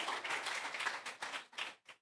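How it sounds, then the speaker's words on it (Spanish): An audience applauds briefly at a live religious gathering, a short burst of fairly faint clapping that thins out and fades within a couple of seconds. "Un aplauso para ella."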